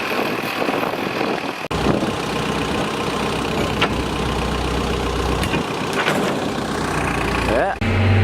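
A tractor engine in a video game drones steadily at a mid-to-low pitch, loud and continuous, with a couple of brief dips as the vehicle is driven.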